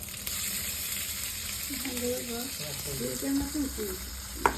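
Chopped onions hit hot oil already seasoned with dried red chillies and whole cumin, giving a steady close sizzle with light stirring, a clear bump near the end, and a voice speaking over the frying.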